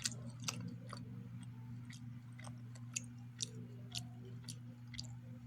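Crunchy chewing on a Nature Valley Sweet & Salty Nut dark chocolate peanut and almond chewy granola bar, with sharp intermittent crunches spaced about every half second over a low steady hum, close and fairly quiet.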